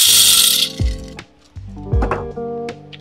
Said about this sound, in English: So maglalagay ako ng beans.